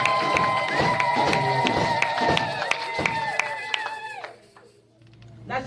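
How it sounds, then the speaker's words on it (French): A church congregation cheers and claps for mothers, a busy crowd roar with shouts and applause that holds for about four seconds, then drops away quickly. "Est-ce qu'on peut s'acclamer pour maman?"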